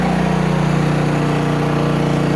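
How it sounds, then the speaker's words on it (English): A Cummins Onan P4500i inverter generator powering an RV runs loud and close under load, its engine holding a steady, raised droning pulse. "It did rev up quite a bit more."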